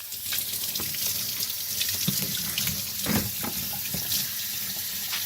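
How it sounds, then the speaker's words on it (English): Water runs steadily from a kitchen tap while a freshly butchered rabbit carcass is rinsed under it, with close splashing and occasional sharper splatters as the meat is turned, and no talking. "now what I do is I give everything a really good rinse."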